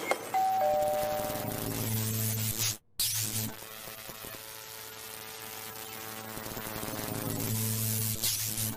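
A faulty doorbell that gives electric shocks buzzes with a sustained electric tone and harmonic hum. It cuts out briefly, then rings on steadily.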